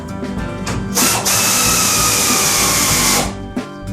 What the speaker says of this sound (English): always use an air ratchet